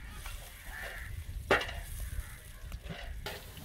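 Onion and garlic frying in a large pot for a village-style whole goat gravy, with a steady low sizzle under occasional stirring clatter and one sharp scrape partway through.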